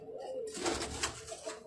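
A Rampuri pigeon gives a short, close coo lasting under two seconds, fairly faint and set against a soft background.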